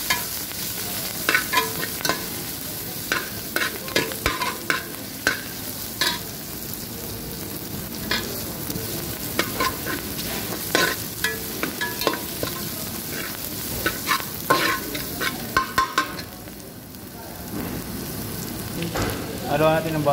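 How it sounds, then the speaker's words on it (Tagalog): Onion, garlic and ginger sauté in a pan for a Filipino upo and patola dish, a continuous close sizzle broken by repeated scraping stirs of a utensil against the pan. "So unang gagawin natin ay gisa natin yung sibuyas saka bawang saka loya."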